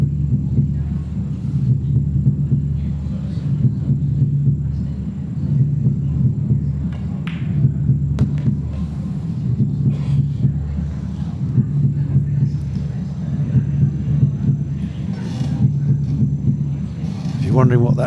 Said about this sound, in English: it's the trains coming over every few minutes from Waterloo Station